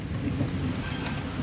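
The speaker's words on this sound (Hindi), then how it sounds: "देखिए बारिश आ रही है" Steady rain falling outdoors in Dehradun, a continuous dense patter with a low rumble underneath, no voices.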